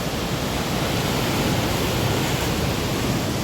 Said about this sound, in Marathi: बघा तुम्ही पाण्याची लाटा बघू शकता